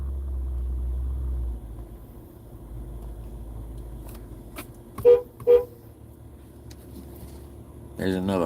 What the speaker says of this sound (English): There's another honk.